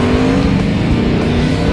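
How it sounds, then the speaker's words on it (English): A pack of off-road race trucks launches together from the starting line, engines roaring loud and steady with a throaty, layered rumble and a hint of tyre squeal, heard up close for a brief moment. "approximately 16 trucks in both classes taking off from the starting"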